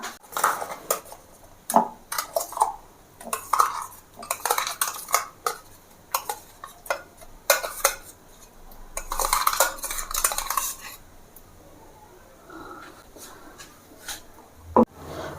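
A utensil scrapes and scoops mashed flat beans out of a metal pan, with repeated close clinks and rubbing strokes, then a quieter stretch and a final sharp knock.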